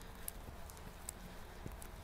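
A horse's hooves thud and clop on the ground at a walk during a riding lesson, a few soft, uneven steps over low background noise.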